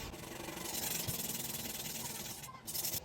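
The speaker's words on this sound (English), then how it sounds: "you are sharpening with the 100 CBN stone." A knife is sharpened on a Hapstone 100 CBN stone with a continuous close, gritty rasping rub that swells and fades with each stroke, with a brief break near the end.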